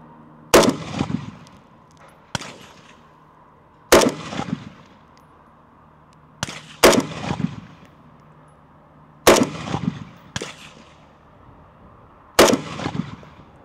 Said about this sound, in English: I'm gonna shoot some brass case ammo, 55 grain